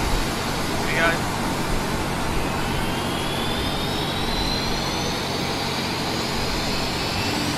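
Embraer E170 jet engine spooling up in the Prepar3D flight simulator, a steady broadband roar with a slowly rising whine heard from the cockpit, constant and moderately loud with a voice talking over it.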